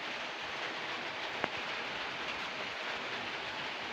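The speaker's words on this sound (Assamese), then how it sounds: "এতিয়া দি আছে বৰষুণ, এয়া চাব পাৰে পুৰা বৰষুণ দি আছে" Heavy rain pours down in a continuous soft hiss, steady and moderately faint, with one brief sharp tick partway through and no voices.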